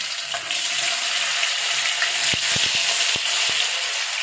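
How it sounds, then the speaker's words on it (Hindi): Potatoes fry in hot oil in a home kitchen pan, a steady close sizzling hiss with a few sharp clicks and taps near the end. "तो अभी इसी ऑयल में हम आलू को फ्राई कर लेंगे।"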